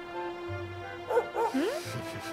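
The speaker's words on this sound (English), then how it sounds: "What do you want, pup?" A dog in the Dragon Quest XI video game gives a couple of short, bright yips and barks, fairly close and clear over steady background game music.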